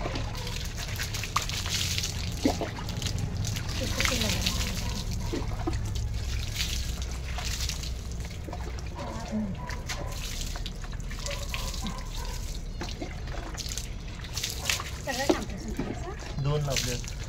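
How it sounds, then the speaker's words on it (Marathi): Tap water runs steadily, splashing and trickling as a container fills for a dog's bath, with people talking over the flow. "पाणी भर."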